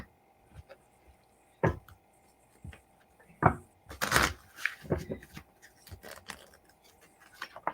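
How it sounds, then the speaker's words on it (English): Tarot cards are shuffled and pulled during a live reading. Soft scattered riffles, flicks and papery snaps come in quick irregular bursts, close but quiet, with near-silence between them. "I'll pull a couple other cards and see what they say"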